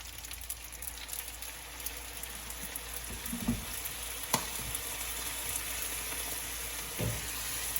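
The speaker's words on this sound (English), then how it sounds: "That sizzle, the smell, just so fragrant." Basil stirred into a hot pan sizzles with a steady, fairly quiet hiss, broken by a few soft scraping knocks from the stirring utensil.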